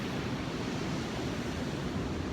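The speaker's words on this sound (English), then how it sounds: "Alright, we are here at the beach." Ocean waves at a beach wash in as a continuous, loud roar of surf with wind noise on the microphone and no voices.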